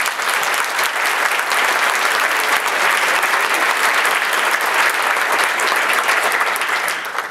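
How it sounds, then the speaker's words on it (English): Conference audience applause, a sustained, even wash of many hands clapping that fills the whole stretch without any speech. "they really deserve a round of applause"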